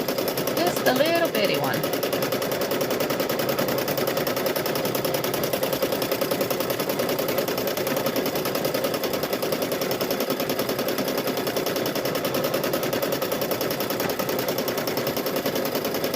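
A sewing machine runs in a continuous rapid clatter while stitching a quilted tote bag, with a brief voice near the start.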